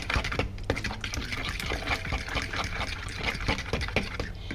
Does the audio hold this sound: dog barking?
no